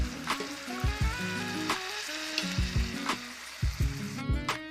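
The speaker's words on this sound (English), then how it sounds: "you just want to mix it until it's well combined" Parsley and garlic powder being mixed in a sizzling pan, a continuous fry crackle with several knocks and scrapes of the utensil against the pan, close and fairly loud.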